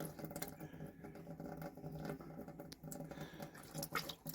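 A caravan tap splutters as air and water spit out in irregular bursts over the drone of a pump, faint and close.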